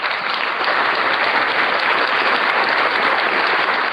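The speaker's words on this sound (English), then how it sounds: "you deserve a big, warm, round virtual applause" Dense, continuous applause at an online international multidisciplinary research conference, holding steady and loud for a few seconds with no voices over it.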